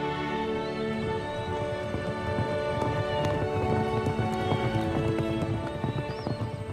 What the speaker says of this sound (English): Emma's horse set off at a gallop.